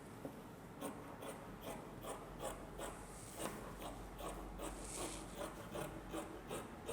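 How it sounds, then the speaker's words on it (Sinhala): Scissors or a blade cut shirt cloth along a marked line for a school uniform, producing a quiet, even train of rasping snips repeating about twice a second, close and alone without speech. "මේ වාටිය රේඛාවෙන්ම කපා ගන්න."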